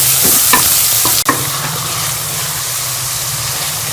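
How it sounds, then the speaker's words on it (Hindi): Tomatoes cooking in a pan until soft for chappan kaddu sabji, a steady loud sizzle with a few spoon scrapes and a sharp knock early on, close up with no voices. "टमाटर को हम सॉफ्ट होने तक पका लेंगे।"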